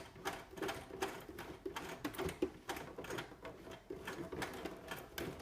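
A sewing machine stitching a collar, running in short bursts of rapid close whirring and clatter with brief pauses as the stitch is reversed and locked.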